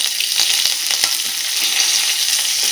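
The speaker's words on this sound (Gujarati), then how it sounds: "થોડીક વાર સાતળી લેવાનું છે જેથી તીખા સરસ પડી જાય અંદર" Green chillies and curry leaves sizzle in hot tempering oil with mustard seeds and asafoetida, a steady, loud, close frying hiss with faint crackles throughout and no voices.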